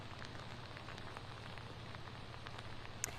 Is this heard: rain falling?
yes